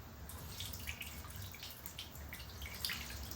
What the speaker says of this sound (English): we're gonna strain it again through here